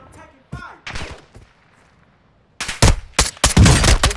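Gunfire in the Warzone video game breaks out in loud, rapid close-range bursts and volleys over the last second and a half, after a quieter stretch with a voice early on.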